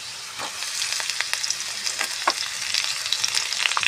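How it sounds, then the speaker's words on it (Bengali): Ginger, chopped tomato and potatoes fry in oil in a pan for a green-pea ghugni, a close, steady sizzle broken by scraping stirs of a spatula. "এবার ভালো করে নেড়ে চেড়ে ভেজে নিয়ে বাকি মশলাগুলো অ্যাড করব"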